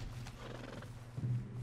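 A horse in Red Dead Redemption 2 gives a close, low whinny while hooves clop steadily underneath, the neigh swelling louder near the end of the short stretch.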